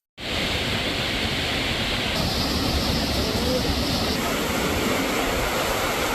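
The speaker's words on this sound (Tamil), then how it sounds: "சில்வர் காஸ்கேடு வாட்டர் ஃபால் இவ்வளவு தண்ணி இருக்கு" Silver Cascade waterfall in Kodaikanal rushing heavily as a loud, continuous broadband roar that fills the whole stretch without pause.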